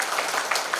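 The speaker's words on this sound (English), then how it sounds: "a round of applause" A conference audience claps in a brief, dense burst of applause that stays steady and fairly close for under a second.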